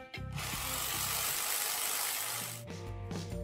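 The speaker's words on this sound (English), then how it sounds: "That's just drills and hammers. They are building some apartments next door" Drills and hammers at a construction site next door where apartments are being built: a loud, steady grinding mechanical rattle that runs for a few seconds, with music before and after.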